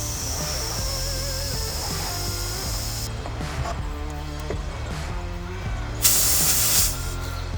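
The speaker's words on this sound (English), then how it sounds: "give it a spray, and you can see the bubbles forming from your soap" Soapy water is sprayed onto a tyre to find a leak, a brief loud hiss of the spray bottle rising near the end over a bed of background music.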